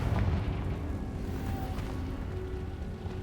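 A Confringo fire spell in Hogwarts Legacy bursts into a heavy, rumbling blast, sustained and loud across the whole moment, with low booming energy and no talking over it.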